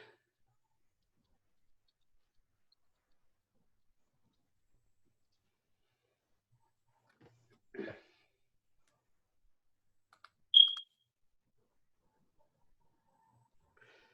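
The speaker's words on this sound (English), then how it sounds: "somebody needs to change the battery in their smoke alarm" A single short, high electronic chirp of a smoke alarm's low battery sounds in near silence, with a faint muffled knock a few seconds earlier.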